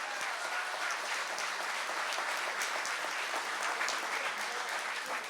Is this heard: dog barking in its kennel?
no